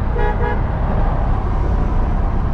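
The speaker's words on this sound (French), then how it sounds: "Vas-y, klaxonne." Two short horn toots sound over a steady loud engine and road rumble.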